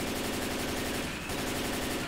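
Rapid automatic gunfire from the zombie shooter game Left 4 Dead 2 chatters nonstop in a dense, loud burst lasting a couple of seconds.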